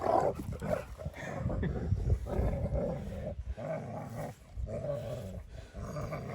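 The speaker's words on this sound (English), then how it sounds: "Got dogs wrestling in the background." Dogs wrestling and growling in the background during a metal detecting trip in Vermont, a steady rumbling mix of low growls and snarls that rises and falls without pause for several seconds.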